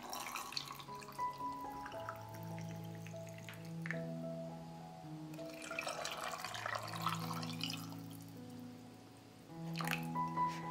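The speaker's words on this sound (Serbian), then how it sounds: "U svaku teglu sipajte vodu da prekrije kobasice." Water is poured into glass jars packed with sausages, a trickling, splashing pour with drips, heard alone over soft background music.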